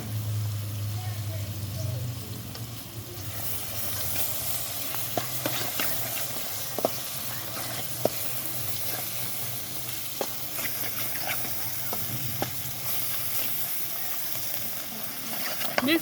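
Lauki halwa being stirred in ghee with roasted dry coconut, raisins, almonds and jelly, producing a steady hiss and sizzle with repeated sharp scrapes and clicks of the spoon against the pan.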